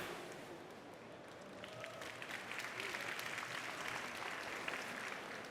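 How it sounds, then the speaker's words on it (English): An audience at the Slush 2023 pitch finals applauds as investor judges are introduced. The applause starts thin and quiet, then swells into steadier, brighter clapping, with some speech mixed in. "I know we can give more applause than that"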